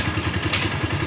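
Motorcycle engine idling before a ride to the market, a steady low rumble with rhythmic throbbing pulses, close and moderately loud, with no voices.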